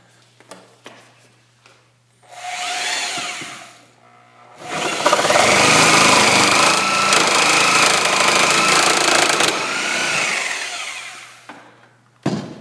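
A reciprocating saw cuts a clamped-down workpiece with a harsh, rapid buzzing rattle, first in a short burst and then in a longer sustained cut, with a few clicks and knocks between cuts.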